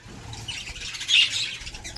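Budgerigars chatter and squawk together in a busy, continuous flurry of high chirps, with one louder squawk standing out nearby.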